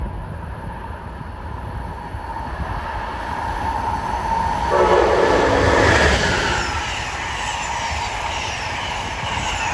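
An Amtrak passenger train on the Northeast Corridor at Linden, New Jersey, on a New York to Washington run, passes on track 3 with a steady loud rumble that swells midway through. A horn-like tonal band rises near the peak.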